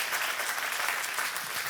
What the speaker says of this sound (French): Si vous applaudissez, applaudissez pour de vrai s'il vous plaît.